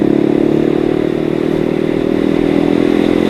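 A Yamaha M-Slaz motorcycle cruising along the road, its steady engine drone loud and constant with some rattle and wind noise, close to the rider, no speech.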